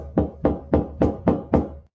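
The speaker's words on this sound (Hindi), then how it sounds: "तभी उसके रूम की दरवाजा कोई नॉक कर रहा था" Six steady, evenly spaced knocks on a room door, close and solid, then silence.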